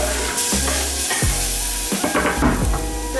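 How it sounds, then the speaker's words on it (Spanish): Onion and grated tomato sizzle loudly in a frying pan, a steady hiss broken by stirring scrapes and clatter, close up, with no talking. "Lo vamos a sofreír hasta que la cebolla esté doradita o más bien transparente."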